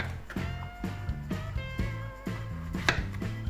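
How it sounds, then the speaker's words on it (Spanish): A knife chops zucchini for a vegetable pisto with a quick, uneven series of close, crisp strokes on a cutting board, running steadily under a soft tonal background. "Y ahora ya vamos a picar el calabacín"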